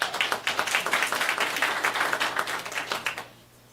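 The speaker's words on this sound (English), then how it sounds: "Thank you for not requiring me to ask you to clap" An audience at a school board meeting gives a burst of dense, fairly close applause that lasts a few seconds and then stops abruptly, leaving near silence.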